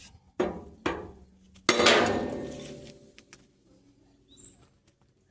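A hammer knocks a big metal pole out of a flatbed trailer being rebuilt as a dovetail: three sharp metallic strikes close by, the last ringing out longest, then faint clinks and background noise.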